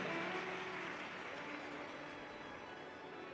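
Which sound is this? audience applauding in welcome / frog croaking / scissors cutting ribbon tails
audience applauding in welcome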